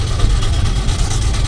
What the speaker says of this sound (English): That's another one of our McLaren